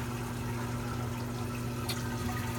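Water flowing steadily through a reef tank sump in a basement, a constant rushing wash with a low hum beneath it and one brief splash near the end.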